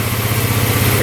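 A previously unfixable free scooter's small engine runs loud and close just after starting, a steady buzzing putter with a rapid even pulse and no voices.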